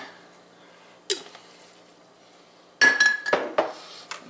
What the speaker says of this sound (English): Put about half a heavy cream in there and just kind of shake that up.